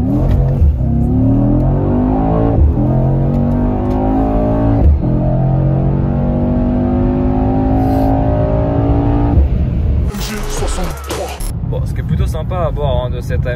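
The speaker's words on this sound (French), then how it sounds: "Allez, on va se refaire juste après une petite accélération." A Mercedes E 63 S AMG accelerating at night, its engine revving up in rising harmonic sweeps through the gears, loud and close from on board, with brief shifts and a rougher burst near the end.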